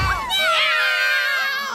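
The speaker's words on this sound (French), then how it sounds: "Qu'est-ce que c'est que ce concert de miaulement?" Cartoon cats meow together in a loud, overlapping chorus of wavering high cries that swells and holds for a couple of seconds, sounding like a shrill crowd.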